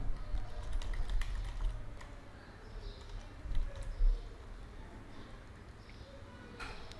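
Typing a folder name on a computer keyboard, soft clicking keystrokes in quick irregular bursts, fairly faint and close, with quiet background noise.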